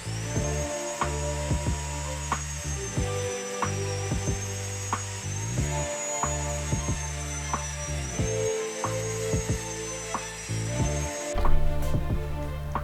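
A biscuit joiner whines steadily while it cuts slots into wooden boards for a shoe cabinet, with repeated plunging cuts and short pauses between them, and no talking.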